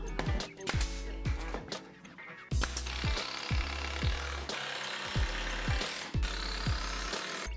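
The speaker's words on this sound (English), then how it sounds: "I tap them in with brad nails to help support them up, and then I screw them in." A screw is driven with a power drill to fix the outer dividers onto a wooden lumber cart, a close, loud series of rapid clicking ratchet bursts in repeated runs with short pauses between them.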